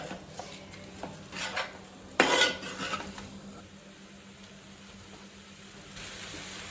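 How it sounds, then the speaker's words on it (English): A spoon scrapes and stirs washed rice through chicken pulao in a pot, with several metallic clinks and a louder scraping burst before a soft sizzle settles in underneath. "Add washed rice. Now mix them."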